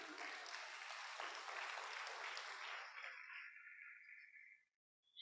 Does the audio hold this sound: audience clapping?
yes